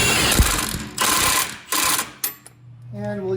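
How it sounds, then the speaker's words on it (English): A ratchet with a 21mm socket clicks in several quick bursts while tightening a lift-kit bolt on a Jeep Wrangler JL, with short pauses between strokes. "Now we can tighten it up using a 21mm socket."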